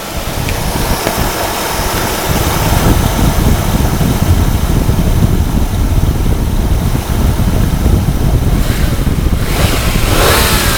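A 2002 Hyundai Sonata engine revs steadily and loudly for about eleven seconds, a continuous close-up roar that swells slightly after the first couple of seconds and holds without any talking.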